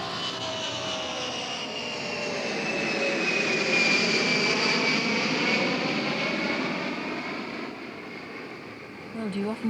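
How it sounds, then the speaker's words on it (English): A propeller aeroplane engine recorded on tape, played on a hi-fi system around 1979, drones steadily, swelling louder toward the middle and easing off, with a smooth sustained hum and no voices. "do you often listen to aeroplanes when you're driving?"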